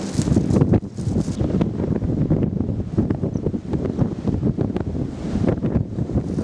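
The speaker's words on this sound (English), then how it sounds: "Got a little bit windy." Strong gusts of wind buffet the microphone, roaring and fluctuating loudly throughout with no voices.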